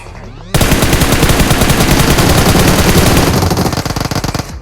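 Sustained automatic gunfire rattles loudly in the BGMI battle royale game's Frozen Kingdom mode, bursting in after a brief quiet start and running as a dense continuous stream before breaking into separate rapid shots near the end.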